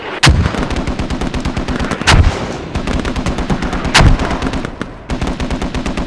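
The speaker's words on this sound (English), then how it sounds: "I'm trying to mortar it right now" Mortar strikes in a tactical multiplayer video game: three heavy, loud blasts land a couple of seconds apart amid dense, rapid bursts of gunfire throughout.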